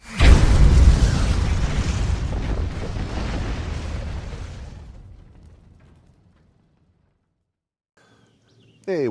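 A single heavy 450 Bushmaster rifle shot at an outdoor 1,000-yard range, a loud close boom followed by a long rolling echo that fades out over several seconds.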